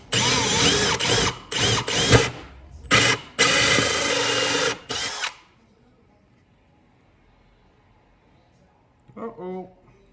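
Drill with a 1.5 inch hole saw cutting into a wooden box, loud whirring bursts broken by short pauses, then stopping into near silence before a brief voice at the end.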